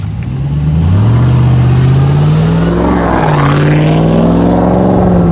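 A Chinese-made Dodge Ram pickup truck engine cranks and starts by push button, then revs loudly with rising and falling pitch, a close, powerful rumble and no talking.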